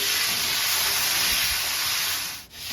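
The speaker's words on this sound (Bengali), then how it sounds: "তেল গরম হয়ে গেছে, এতে আমরা ফুলকপিগুলোকে ভেজে নিচ্ছি" Cauliflower florets frying in hot mustard oil for khichuri: a loud, steady broadband sizzle and hiss held close and continuous throughout, with no speech.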